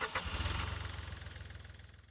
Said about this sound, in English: Next thing is to start the engine